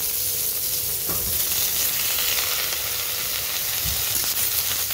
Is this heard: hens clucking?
no